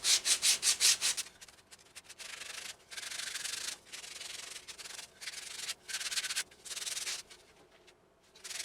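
Sandpaper rubs along the edges of a wooden antler mounting plaque, quick rapid strokes at first, then longer steady rasping passes with short pauses, close and alone.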